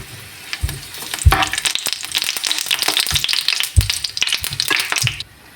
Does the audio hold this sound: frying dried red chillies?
yes